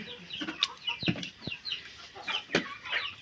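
Several roosters in a village yard cluck and call in short, repeated bursts at close range, with soft scratchy farmyard noise between the calls.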